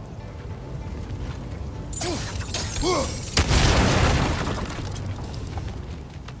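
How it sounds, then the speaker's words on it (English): Fuel barrels exploding in the video game God of War Ragnarök, with a sudden loud blast followed by a few whooshing tones and a second heavy boom that rumbles and fades, all against ongoing game ambience. "Bet a spark from your blades would cause quite a boom."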